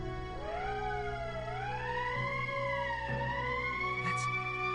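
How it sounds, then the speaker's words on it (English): An emergency siren in the Valkyria Chronicles game wails in a steady rising and falling tone, loud and continuous over a low hum, with no talking. "That's the emergency siren"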